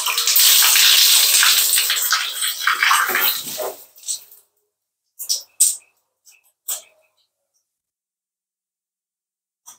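Water gushing loudly from a repaired household tap for about four seconds, then cutting off, followed by scattered short splashes and drips in a quiet room.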